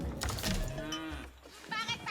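In a real-time strategy match, game cattle low in a couple of drawn-out moos, with game sounds in the background and no speech over them.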